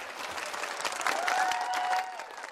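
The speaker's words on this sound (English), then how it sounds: "big round of applause for them" An audience gives a big round of applause at a gathering with an orchestra, steady dense clapping throughout with a faint tonal sound rising briefly in the middle, moderately loud.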